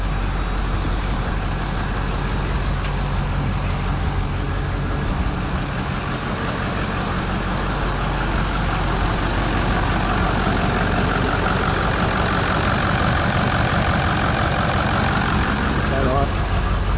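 A Ford 6.0 Powerstroke diesel engine idles steadily up close with an exhaust leak, a continuous rough drone and chatter running throughout, with someone talking over it.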